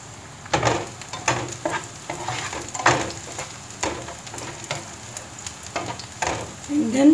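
Garlic frying in olive oil, a steady close sizzle with intermittent scraping and stirring strokes across the pan, no voices over it.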